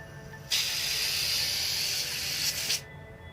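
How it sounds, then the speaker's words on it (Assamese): A pressure cooker on a gas stove, cooking rice with peas, vents steam in a steady loud hiss lasting a couple of seconds before cutting off abruptly. "প্ৰেছাৰ কুকাৰৰ ভাপটো যাব দিম"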